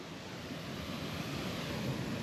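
Waterfall roaring steadily outdoors, a continuous broad rushing wash of falling water with no breaks, loud and close throughout.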